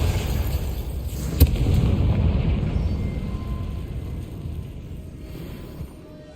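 A Confringo fire spell from the Hogwarts Legacy video game goes off with one sharp blast, followed by a loud, rumbling explosive roar that slowly fades over several seconds.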